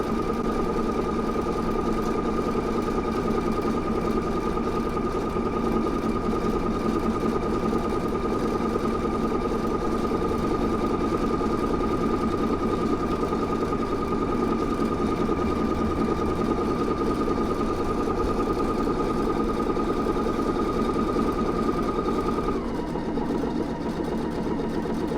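A Pfaff Creative Icon 2 sewing machine runs a patchwork stitching program on a fabric square, its steady whirring hum continuing at an even pace for about twenty seconds before easing down near the end, with no talk.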